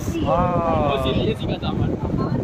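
Wind buffets a microphone outdoors, a constant low rumbling roar throughout, while a voice speaks over it.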